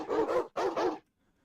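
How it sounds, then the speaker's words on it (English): A dog barks in a video game, two loud close bursts in quick succession, followed by quiet. "I hear dog."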